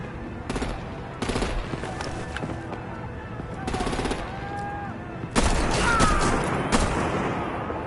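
Artillery and gunfire in a Batman video game: heavy bursts of automatic fire and booms come in repeated volleys, then one loud sustained barrage near the end, with faint tonal effects behind.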